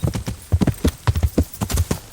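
Rapid clip-clop of video game horse hooves galloping in a quick, uneven rhythm, loud and close, with no voices, in Kingdom Come: Deliverance.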